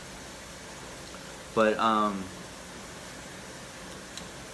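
A kitchen exhaust fan runs as a steady, even whoosh after cooking at home, with a short burst of close speech partway through.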